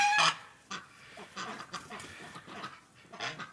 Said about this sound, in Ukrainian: гуси, крикуни